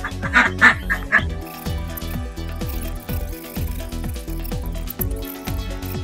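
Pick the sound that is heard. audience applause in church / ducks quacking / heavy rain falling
ducks quacking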